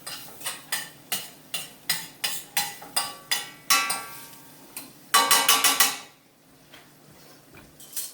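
Meatballs tossed in a pan over the heat, a steady series of rhythmic metallic scrapes and knocks ending in a quicker flurry of clatter, close and fairly loud with no talking.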